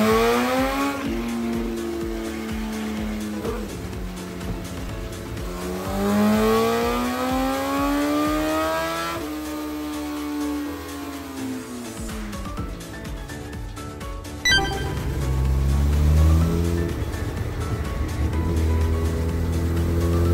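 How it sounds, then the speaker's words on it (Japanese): An overhauled Honda 954 motorcycle engine with about 150,000 km on it revs on a dyno to warm the rear tyre, its loud pitch rising and falling in sweeping waves before a deep, rumbling surge near the end. "少しずつスロットル回路を大きく取ってリアタイヤを温めていきます。"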